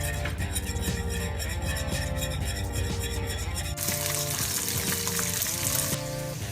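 Cornmeal being whisked into milk and Parmesan for polenta, a loud close wet scraping and sloshing that changes character partway through and keeps going without pause.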